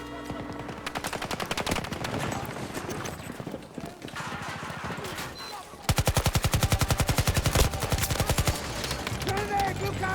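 A turret in Battlefield 2042 fires rapid, rhythmic bursts of automatic fire. A second, louder and faster burst starts midway and continues steadily to the end.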